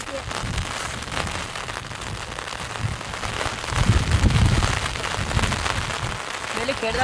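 Rain patters steadily on leaves and ground under trees in a Punjab village, a dense even hiss that swells briefly louder midway, with faint voices in the background.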